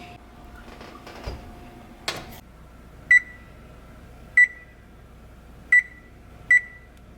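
A kitchen oven in an off-grid shipping container cabin gives four short, clear electronic beeps at steady intervals, after a few soft thumps and clatters as the food goes in.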